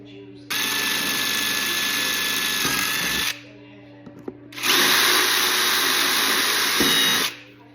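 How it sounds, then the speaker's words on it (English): A power drill whirs in two sustained, high-pitched bursts of a few seconds each, loud and close, drilling holes for a portable battery box, with a short pause between them. "So I'm gonna take it on this side so I can drill my holes like this"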